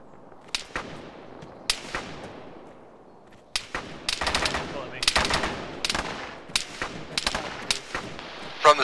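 Gunfire in the military video game Arma 3: scattered single cracks give way to dense, sharp bursts and rapid volleys, some close and loud, others echoing farther off.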